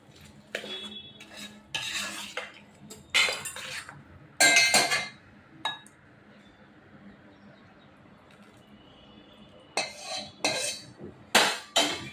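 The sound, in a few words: stirring sugar syrup mixture in a pan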